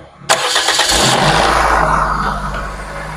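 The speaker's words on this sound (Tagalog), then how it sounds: "Pero kailangan na paandarin pa natin talaga yung makina." A 9th-generation Toyota Corolla Altis cranks briefly and catches with a sharp start, then settles into a steady idle close by, with no talking.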